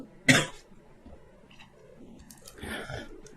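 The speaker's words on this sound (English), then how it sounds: "I'm going to cough 1 second." One sharp, close cough bursts out, then fainter throat and mouth noises and a rougher follow-up cough or wheeze toward the end, from a woman with a sore throat, with no speech.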